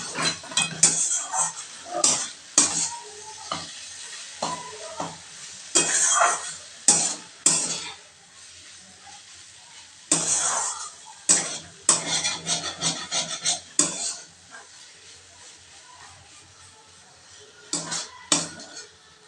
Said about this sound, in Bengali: দিয়ে খুব ভালোভাবে নেড়েচেড়ে মিশিয়ে নিতে হবে